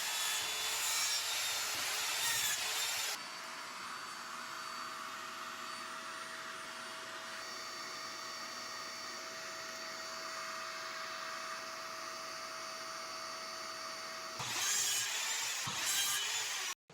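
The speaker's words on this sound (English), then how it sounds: "I cut the 45-degree angles on the sliding miter saw" Sliding miter saw cutting 45-degree angles through wood: a loud whining cut at the start, then a long steady motor hum as the blade spins down, and a second short burst of cutting near the end.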